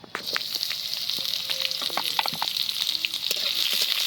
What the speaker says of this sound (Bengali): এবার দিয়ে দিচ্ছি কুচানো পেঁয়াজ।